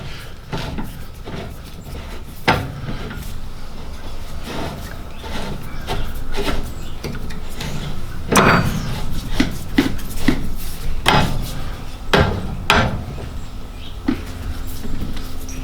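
L-shaped wrench winding down a nut on a Koni strut shock for a VR6, steady scraping and rubbing with repeated sharp metallic clicks as it turns, close and fairly loud.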